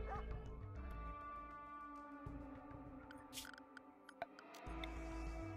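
A dog in the video game RimWorld gives a few short barks and yips, faint and set against a steady layer of game music, with no talk.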